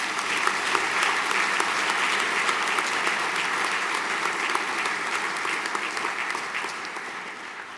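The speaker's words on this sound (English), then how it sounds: "Round of applause, please." Steady audience applause rolls through a school senior prizegiving ceremony, dense and even for several seconds before tapering off slightly toward the end, with no speech over it.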